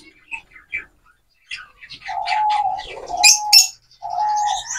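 Pet pigeons coo softly and steadily at close range, with a few chirps and squawks between the coos and faint clicks early on.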